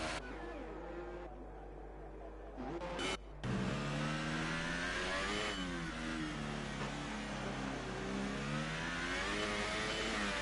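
F2 racing car engine in a racing video game at the British Grand Prix, revving hard and accelerating with rising harmonic whine, a brief drop near three seconds, then sustained loud engine roar continuing to the end.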